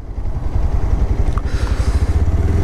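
A Bajaj Pulsar 125 BS6 motorcycle engine revs and pulls hard during a test ride, a loud, steady, throbbing drone with rapid low pulsing throughout.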